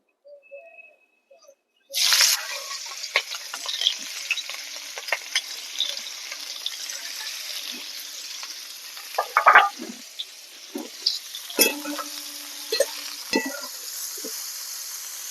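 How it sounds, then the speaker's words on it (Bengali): Cauliflower florets coated with salt and turmeric dropping into hot oil in a wok, a sudden loud sizzle that settles into steady frying with intermittent stirring clatters, close by. "এবার আমি এগুলোকে ভেজে নেবো"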